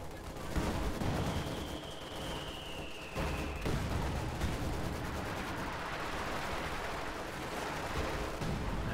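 Howitzer artillery fire in Company of Heroes 2, heavy booming shots and rolling gunfire over a dense battlefield din, with a whistling shell streak and loud reports throughout, near and sustained.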